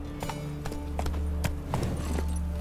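Roach, a horse in The Witcher 3, clip-clopping along in a steady run of hoofbeats, close and fairly loud over ambient game sound and music.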